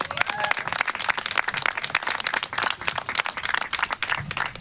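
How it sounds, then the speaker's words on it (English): A crowd of guests gives a warm, steady round of applause at a New York City bakery celebration with local elected officials, many hands clapping densely and close by for several seconds. "give her a big round of applause"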